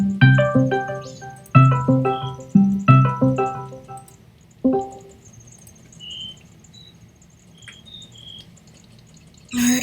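Cricket chirps from Zelda: Majora's Mask sound faint and high beneath loud repeated game music notes, with small chirping blips in the quieter stretch before a final musical hit.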